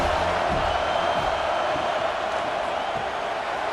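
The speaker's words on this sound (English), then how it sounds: "this crowd trying to help keep them there" A college football stadium crowd at a Georgia Southern versus USC game roars in a dense, continuous wash of cheering and noise, with no single voice standing out.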